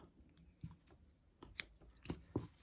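Scissors snipping yarn after crocheting an amigurumi fish, a few quiet, sharp clicks and small metallic snaps spread over a couple of seconds, close by and faint, with no one talking.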